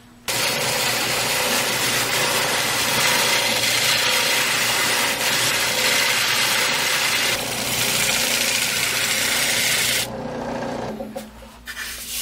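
A wood lathe turns a spindle for a fake concrete garden wall prototype, with a loud, continuous scraping rasp of a tool cutting the spinning wood over motor hum, stopping briefly near the end.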